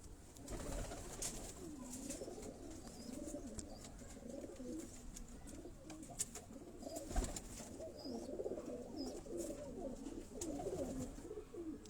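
Pigeons kept by a fancier coo in soft repeated low calls, steady throughout under a faint background hum, with no talk.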